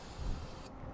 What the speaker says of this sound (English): we're just going to take this engine degreaser and we're just going to spray it down in there